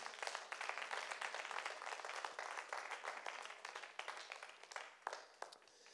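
A church congregation claps along during a worship service, a steady dense patter of many hands that stays fairly faint and distant throughout.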